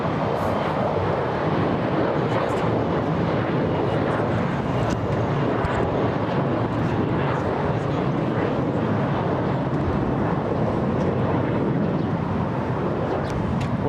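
Airliners at LAX, including Qantas A380s and Delta A350s, give a steady broad roar of jet engines from some distance, with a constant rumble and wind buffeting and no voices.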